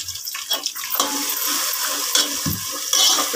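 Blended moong dal paste with garlic and green chillies sizzles softly in a pan while being stirred, with brief scraping and clinks of the utensil and no talking.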